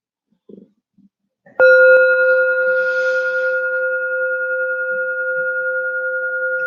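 A meditation bell struck once, ringing out with a bright sustained tone that slowly fades, preceded by a few faint soft knocks.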